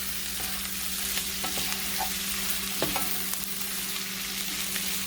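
Pork sizzling steadily in a hot pan as it is stirred and turned, with soft scraping and clinks from the utensil over a constant frying hiss, no voices.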